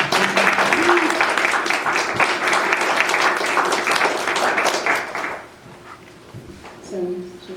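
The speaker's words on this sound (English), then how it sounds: "A round of applause for Pax and Gill for opening this space and" Audience applause at a small poetry reading in a newly opened space, a room of clapping that holds for about five seconds and then fades, followed by quieter room noise and a brief voice.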